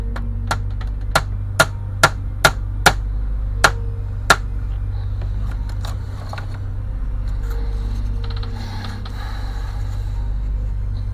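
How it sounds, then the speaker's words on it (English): A small nail is tapped into a 1:50 scale OCCRE Flying Dutchman wooden model ship kit with about nine sharp, evenly spaced hammer taps, loud and close, followed by quiet handling and shuffling. "we're going to put our first nail in"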